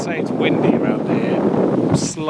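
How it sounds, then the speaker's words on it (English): Strong wind roars and buffets the microphone in a steady, heavy rush, with a voice speaking briefly underneath. "to say it's windy around here,"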